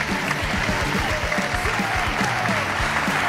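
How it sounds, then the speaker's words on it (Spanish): Theatre audience applauding at a comedy monologue show in Zaragoza, a dense, sustained burst of many hands clapping, loud and close, filling the hall without pause. "fuerte el aplauso pa' Jorge Puello."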